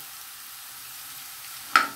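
Crushed garlic meets golden onions in hot oil: a low, faint background sizzle suddenly flares into a sharp, brief burst of hissing near the end.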